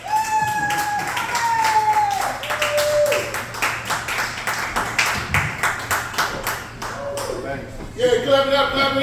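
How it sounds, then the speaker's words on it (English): Clapping from a small open mic audience, several bursts of fairly sparse hand claps mixed with tonal sounds and a voice speaking. "Yeah, clap it up, clap it up, clap it up!"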